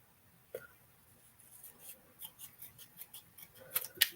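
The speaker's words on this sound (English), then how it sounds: "I'm actually just going to use my paper snips" Paper snips cutting card stock down to label size, a rapid series of short, crisp snips in a steady rhythm, close and fairly quiet, ending with a sharper final cut.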